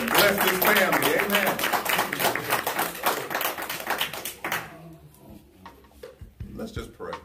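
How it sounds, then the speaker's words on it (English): Hand clapping of praise at a Sunday church worship service, dense and rhythmic under voices, loud at first, then breaking off into a few scattered claps. "Let's give the Lord another hand clap of praise"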